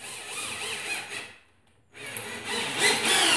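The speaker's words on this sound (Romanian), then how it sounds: "haideți să încerc să bag șurubul să vedeți despre ce e vorba" A Ryobi 18V drill driving a screw into a small mirror, a whirring motor that runs, stops briefly, then starts again and strains louder, close up with no talk.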